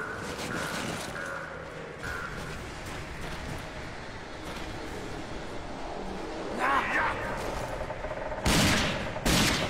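Gunfire in the first-person shooter video game RAGE: a continuous burst of rapid shots and mechanical clatter under someone talking, with louder bangs and sharper cracks toward the end.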